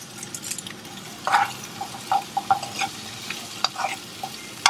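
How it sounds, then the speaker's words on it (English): Vegetables tossed into olive oil with minced garlic, frying with a steady sizzle while a utensil stirs, giving several sharp scraping knocks against the pan at irregular intervals. "I'm gonna add all of the veggies in."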